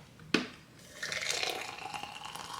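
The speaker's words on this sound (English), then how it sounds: "I like to introduce the water with a little bit of violence and pour like a Niagara Falls" Hot water pours vigorously into a Bodum French press, a sharp knock followed after a pause by a sustained gushing, splashing pour that fills the rest of the moment.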